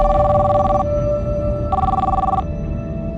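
A telephone rings in two long electronic bursts separated by a short gap, loud and steady over a low background hum, with no voices.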